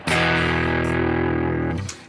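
A single electric guitar chord rings through an amp overdriven by a clean boost pedal, thick and gritty, breaking up in the bottom end, sustaining loudly for about two seconds before cutting off.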